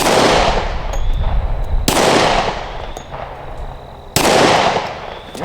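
Three loud, sharp shots from a Smith & Wesson M&P 2.0 10mm pistol fired at steel plates on an outdoor range. Each blast is followed by a long echoing decay, and faint metallic pings sound between the shots.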